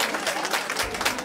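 A concert audience on Ronnie Dove's U.S. tour gives a brief, full round of applause, a continuous wash of many hands clapping together.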